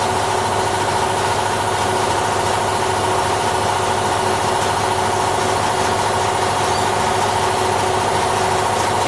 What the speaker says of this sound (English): Just waiting for the compressor to build up,